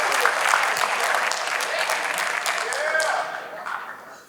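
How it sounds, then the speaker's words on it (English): Audience applause fills a student council town hall, a dense, loud burst of clapping that holds steady and then fades toward the end, with no talk over it. "Get some claps, get some claps."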